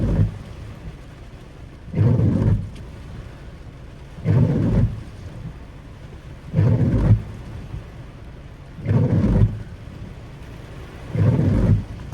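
Heavy rain falls steadily through a thunderstorm while loud thunder rumbles swell in roughly every two to three seconds, five distinct booms rolling over the constant downpour.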